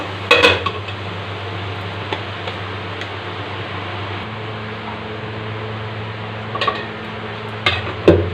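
A utensil scrapes and knocks against a pan while a spice mix is sautéed for a fish roe fritter dish, with a few clattering strikes at the start and near the end over a steady low kitchen hum.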